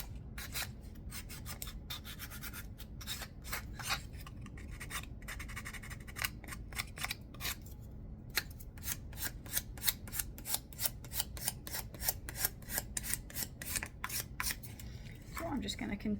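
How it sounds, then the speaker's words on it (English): Hand sanding of a Christmas ornament being refinished, a steady run of rough, scratchy strokes that speed up into quick rhythmic rasps, close and alone over low background hum. "So I'm just going to continue sanding this down till I get the look I want"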